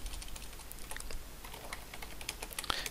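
Fast, irregular clicking of keys on a computer keyboard while typing text into a presentation slide, close and fairly quiet.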